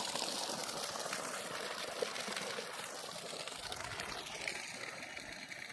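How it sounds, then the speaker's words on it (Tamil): Water from a 5 hp solar-powered borewell pump drawing from 300 feet gushes steadily, a continuous broadband rush with faint mechanical hum beneath, no talk over it. "தண்ணி எவ்வளோ நேரம் ஓடுன்னு பார்த்துக்காங்க"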